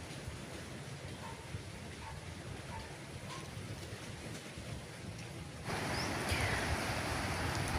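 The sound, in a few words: heavy rain during monsoon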